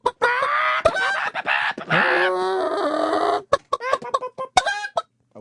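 A voice imitates a hen clucking in a quick, uneven run of bursts and squawks, loud and close, with short gaps of silence between the calls.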